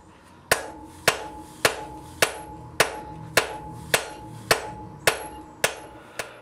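Steel hammer blows forging a taper into half-inch steel bar at a blacksmith's anvil: eleven evenly spaced, ringing strikes about half a second apart, close and clear with no talk.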